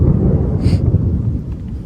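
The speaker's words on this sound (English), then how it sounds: "There goes that thunder." Deep, continuous thunder rumbles steadily and fairly loud through the whole short stretch outdoors at a lawn care job, with no talking over it.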